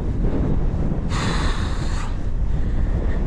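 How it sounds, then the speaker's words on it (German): Strong headwind roars against the microphone while cycling along the seaside in Italy, a steady, loud buffeting rumble that fills the clip. A brief hissing swell rises partway through, with no talk. "wir haben so einen Gegenwind, wie man es wahrscheinlich hören wird auf der Kamera."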